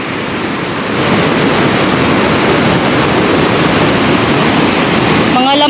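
Heavy sea surf churning during Typhoon Kristine, a steady loud roar of breaking waves rising after the first second, with strong wind noise on the microphone and a brief voice near the end.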